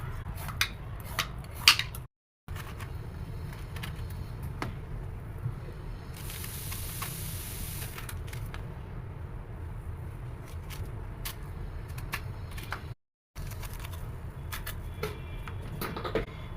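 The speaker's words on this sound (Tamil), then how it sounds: "சுரக்காய் நான் அரை சுரக்காய் எடுத்துருக்கிறேன் சீவிக்கலாம் நல்லா சீவிட்டு கட் பண்ணிக்கலாம்" Half a bottle gourd is peeled and then cut with a knife in a home kitchen, a quiet run of soft scraping strokes and small sharp clicks over low room hum, with no talking.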